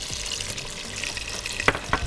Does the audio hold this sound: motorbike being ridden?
no